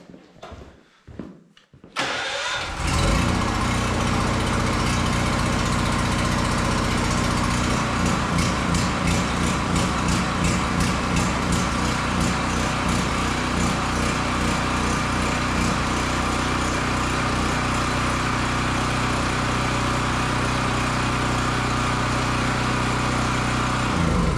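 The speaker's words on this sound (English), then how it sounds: "5500 watt generator." A DuroMax XP5500EH 5500-watt portable generator starts after a few seconds of quiet rustling, then runs loud and steady with a constant engine drone and rattle, close by and alone.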